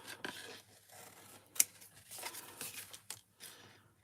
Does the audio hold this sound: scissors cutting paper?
yes